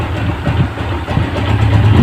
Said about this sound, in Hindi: तो अब इसका इंजन का साउंड भी सुन लेते हैं।